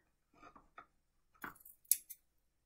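A few short, quiet snips of scissors trimming the tails of a handmade wood door round decoration, spaced irregularly with pauses between cuts, close by and alone without talk.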